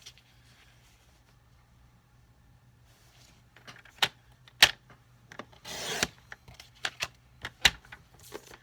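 A paper trimmer with a two-sided blade slices through a scrap of white paper in one short rasping stroke, surrounded by scattered light clicks and taps from handling the trimmer, all quiet and close.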